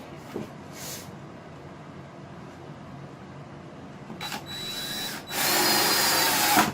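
A power drill drives screws into a wooden desk during a ham radio desk build, with a short whir, a pause, then a louder sustained drilling run close by.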